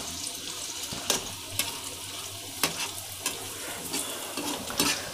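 Medu vada fry in hot oil in a pan, giving a continuous crackling sizzle broken by several sharp spoon clinks and stirring knocks at irregular intervals, with no voices.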